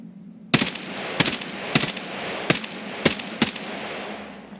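Gunfire in a video game shooter: about six loud, close bursts of rapid automatic fire, evenly spaced over a steady low background, with no talking.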